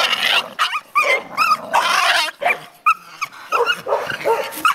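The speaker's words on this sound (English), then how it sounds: "Our little pup off of Czar and Bagheera." A young female puppy barks in sharp, repeated yaps mixed with rough growls, close and loud, with short pauses between bursts.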